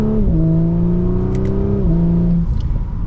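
A 2024 Audi S4 pulls away and accelerates from inside the cabin, its engine note rising steadily through one gear, dropping at a shift, then climbing again, loud and continuous.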